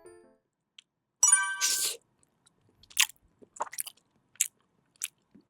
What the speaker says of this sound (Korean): 먹는 소리 잘 들어보십시오.